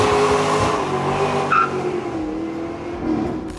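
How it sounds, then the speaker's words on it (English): A car doing donuts and burnouts, its engine droning steadily with a brief tire squeal around the middle, loud and close with no talk. "Here's a few shots of the car doing donuts and burnouts"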